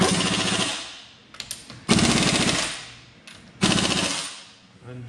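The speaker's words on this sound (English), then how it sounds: "I know we're using air, but we got the torque stick, so it'll run it down to 80 foot-pounds" Air impact wrench fitted with a torque stick running wheel nuts down to 80 foot-pounds, heard as three loud rattling bursts of hammering with brief pauses between them, close by.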